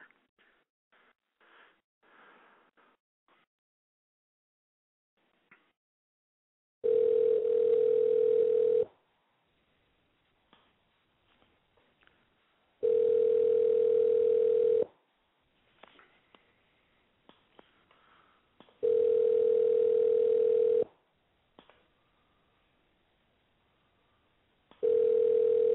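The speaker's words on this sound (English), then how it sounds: "I'm just dialing random numbers here to try to get somebody on the damn horn" A telephone dial tone sounds in three loud, steady bursts of about two seconds each while random numbers are dialed, with quiet gaps holding faint rustles and clicks between them.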